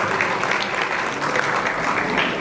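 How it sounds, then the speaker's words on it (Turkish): Steady audience applause after a speech at a CHP political party gathering celebrating Mother's Day and Disability Week, a continuous, fairly loud wash of many hands clapping throughout. "bu mümtaz ve güzel konuşması için yürekten bir kez daha alkışlıyoruz"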